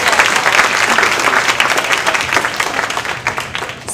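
A large audience gives a loud, sustained round of applause for a student presenter at a high school science and technology symposium, dense rapid clapping that thins slightly toward the end.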